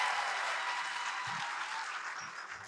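Audience applause at a public talk event, a dense steady wash of clapping that holds evenly for a few seconds and tapers slightly toward the end, moderately distant.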